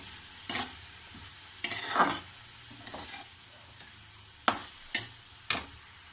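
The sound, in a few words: stirring meal maker curry in a pan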